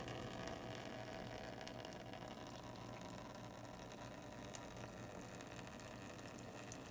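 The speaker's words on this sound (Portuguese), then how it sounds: "posicionando a altura da saída de água, de modo que se forme um filete fino de água com um fluxo laminar" A thin laminar stream of water runs from an outlet in a physics experiment, a faint, continuous, even trickle under steady background noise with no breaks.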